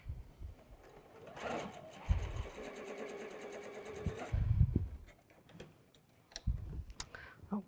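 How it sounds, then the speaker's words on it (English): A sewing machine stitches quilt fan pieces from the wide end toward the narrow end, running fast and steadily for about three seconds, with voices speaking before and after the stitching. "we're going to sew from the wide towards the skinny end"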